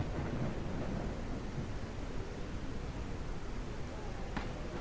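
Thunderstorm in the survival game SurrounDEAD on Nightmare permadeath: a dense, unbroken roar of rain and wind fills the whole stretch at a steady moderate level, with a faint sharp crack near the end.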